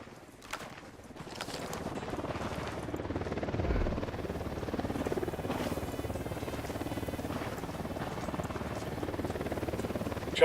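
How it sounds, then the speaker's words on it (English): A helicopter in the video game Ghost Recon Wildlands approaches with a steady rotor rumble and roar that holds for about ten seconds, moderately loud, with the game's ambient effects mixed in. "Chopper's approaching."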